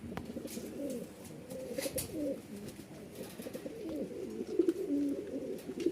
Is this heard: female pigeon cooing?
yes